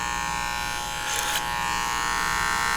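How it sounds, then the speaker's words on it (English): Electric hair clippers cutting a man's hair over a comb during a classic haircut, a steady close buzz with a short brighter burst of cutting midway, no talking. "This is just clipper over comb."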